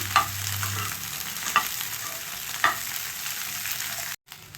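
Okra (lady finger) frying on a high flame, a steady close sizzle broken by a few sharp scrapes of a spoon stirring, with no voices and a brief dropout near the end.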